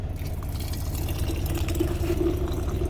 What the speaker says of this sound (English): Put the rest in the glass.